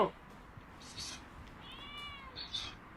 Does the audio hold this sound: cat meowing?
yes